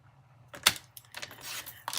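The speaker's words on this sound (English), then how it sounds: "now I'm going to go ahead and cut this piece" Cardstock being cut to 3 3/4 by 5 inches for a handmade card: a sharp click, then a short, dry, scraping slide of the blade through the paper, close and fairly quiet, with no talking.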